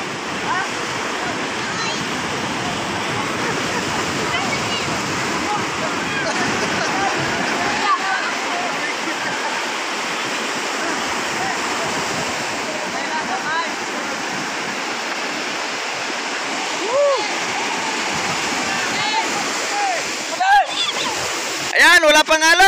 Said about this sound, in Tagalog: Ayan o, malaki na ngayong alon.